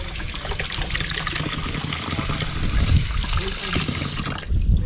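Water at a campsite trickles and splashes in a steady, continuous flow, close and fairly loud, with no voices over it.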